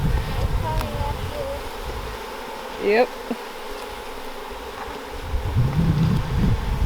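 Honeybees swarm around an opened hive during a varroa mite check, a constant close buzzing drone with individual bees zipping past the microphone, while a person briefly speaks.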